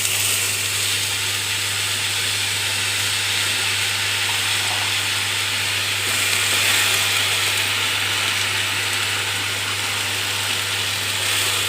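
Green amaranth leaves sizzle and hiss steadily as they are sautéed in a pan, a continuous close frying sound over a constant low hum, with no talking.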